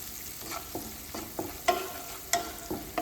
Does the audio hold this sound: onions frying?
yes